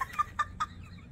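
Several short, throaty clucks from a chicken, fairly close and moderately loud, spaced irregularly over about a second with quiet gaps between calls.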